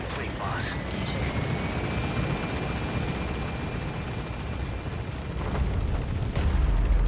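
The extraction helicopter in Metal Gear Solid V gives off a steady rotor and engine roar that swells louder toward the end, with a deep rumble underneath.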